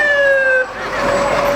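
A fire engine siren wails loudly during a small-town butterfly festival parade in Mariposa, a steady two-tone wail that dips briefly and then resumes beneath faint crowd noise.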